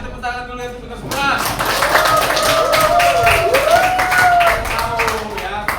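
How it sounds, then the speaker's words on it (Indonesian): Students in a classroom clap together after a quiz answer: a brief voice first, then a burst of steady group clapping with excited voices and a rising, falling shout over it. "Kasih tepuk tangan dulu itu benar semua."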